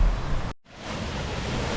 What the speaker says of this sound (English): can even hear the noise of the water, or the noise of the waterfall